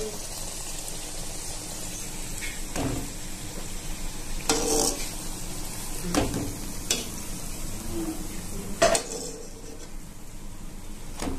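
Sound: frying palm-fruit luchi in oil

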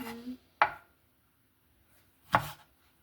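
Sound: knife chopping vegetables (cucumber) for salad

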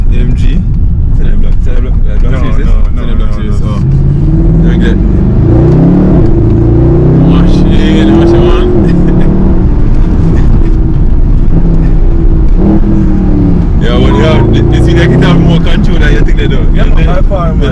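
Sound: Mercedes SLS AMG sports car engine revving while driving

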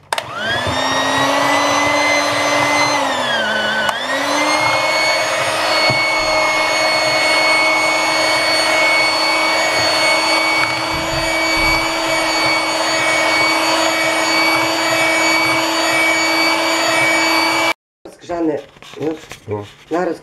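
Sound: blender mixing pumpkin pancake batter

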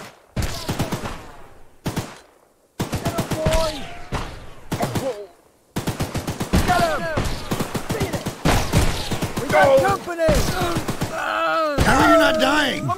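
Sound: gunfire in Choo-Choo Charles video game

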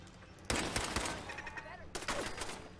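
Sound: gunshots in video game Fallout 4

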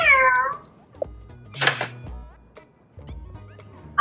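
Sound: Lego Boost robot cat meow sound effect

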